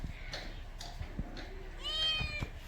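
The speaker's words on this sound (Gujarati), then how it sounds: "પેલા નાની જ હતી બિલાડી. જો ભૂખી થઈ છે એટલે રોવે છે" A hungry young cat meows several times in quick succession, the cries rising in pitch and clearest toward the end, heard up close over faint background noise.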